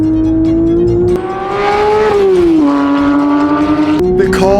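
A Porsche GT3 engine revving hard while driving, a loud sustained tonal roar that rises and falls in pitch with gear changes and throttle.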